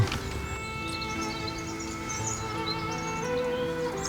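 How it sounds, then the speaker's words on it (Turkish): Birds chirp and sing softly in the background outdoors, light scattered calls over a steady low ambient hum, with no one talking. "Kuşlar da çok güzel ötüyor."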